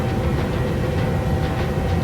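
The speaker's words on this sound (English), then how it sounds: "The sound you hear is the nose gear stopping inside the gear housing" In a PMDG Boeing 737-800 flight simulator, a low, rumbling mechanical drone with a faint rattling texture fills the cabin as the nose gear retracts into its housing, steady and moderately loud without a distinct thump.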